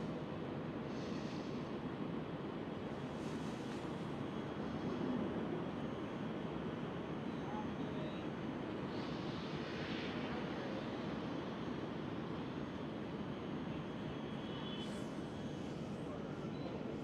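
A Boeing 737 at Amsterdam Schiphol airport gives off a continuous broadband jet engine roar that stays steady and fairly distant throughout, with no talking.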